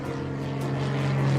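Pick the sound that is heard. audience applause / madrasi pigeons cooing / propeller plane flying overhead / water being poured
propeller plane flying overhead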